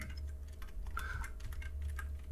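Quiet, close typing on a computer keyboard while entering a composition name in After Effects, a short burst of soft key clicks over faint background hum.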